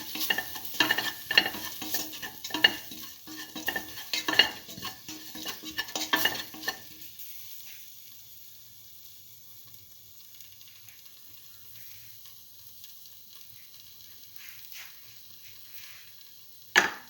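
Spoons of mixed spices stirred in a hot pan for a beef and cucumber rice dish, with quick scraping strokes over a steady close sizzle for several seconds, then a quieter hiss and a sharp clack at the end.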